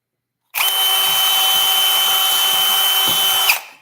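A power drill whirs steadily at full speed for about three seconds, loud and close, with a steady high whine, then cuts off.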